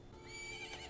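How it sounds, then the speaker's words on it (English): Link's horse from Zelda: Majora's Mask gives a single quavering neigh, a fairly faint whinny that rises and wavers over soft game background sound, with no talking. "Oh my god, it's your horse, Link."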